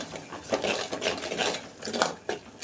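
Curry leaf paste stirred in oil in a pan, a spoon scraping and knocking against the metal in quick irregular strokes, close and fairly loud, with no talking.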